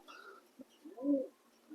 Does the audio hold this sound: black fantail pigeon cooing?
yes